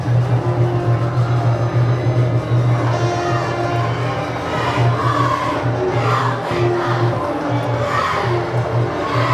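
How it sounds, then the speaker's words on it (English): A large crowd of Cedar Crest fans cheers and roars steadily at a high school football game against Hempfield, with loud sustained noise, scattered shouts and a low drone running throughout. "This crowd for Cedar Crest, they're in full throat."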